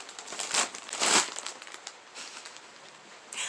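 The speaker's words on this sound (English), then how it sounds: "I can just rip it open." Plastic mailer package torn open by hand, a few loud crinkling rips in the first second and a half, then softer rustling of the plastic, close and with no voice over it.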